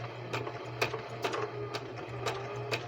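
A sewing machine stitches fabric hands-free during maintenance, with a steady low motor hum under a quick, regular series of needle clatters, close and fairly quiet.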